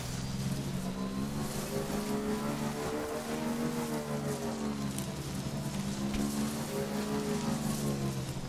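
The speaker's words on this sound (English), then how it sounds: "Still raining?" Steady rain hisses continuously in the video game Death Stranding, with a low droning vehicle engine humming underneath throughout.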